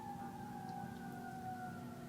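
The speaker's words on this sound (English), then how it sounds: "you hear the fucking sirens show up" Emergency vehicle sirens sound outside, a faint, steady wailing tone that slowly drifts in pitch as it carries from a distance over low background rumble, with no talking.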